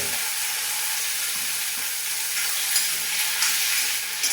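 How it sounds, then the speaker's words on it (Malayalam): Pineapple pieces sauté in hot oil in a pan for pineapple pulissery, giving a steady, close sizzle and hiss with occasional stirring scrapes and no voices. "പൈനാപ്പിൾ എണ്ണയൊന്ന് നന്നായിട്ട് വഴറ്റിയെടുക്കണം."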